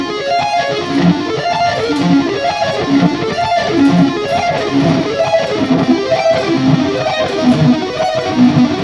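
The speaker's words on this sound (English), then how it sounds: "I'm going to play the minor 3rd inversion arpeggio," A guitar sweeping rapid minor then major 3rd inversion arpeggios, even rising and falling note cascades in a steady repeating rhythm, clear and solo with no voices.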